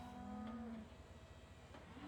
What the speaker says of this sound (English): Here comes our cow.